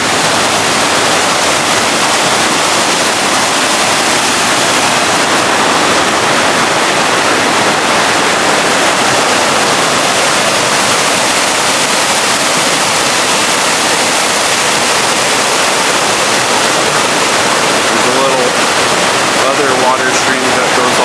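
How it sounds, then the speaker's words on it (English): Grove Creek Falls in Utah roars loud and steady up close, a continuous broadband rush of falling water that barely varies from start to end. "Here's the waterfall."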